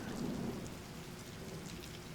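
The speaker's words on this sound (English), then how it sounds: "with the background sound of city rain" Steady city rain with low rumbling, a continuous wash of rainfall on hard surfaces holding at an even level throughout, with no voices.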